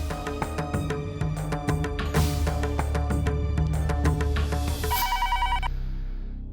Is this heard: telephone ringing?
yes